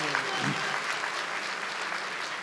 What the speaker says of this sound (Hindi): एक बार भरपूर तालियों में।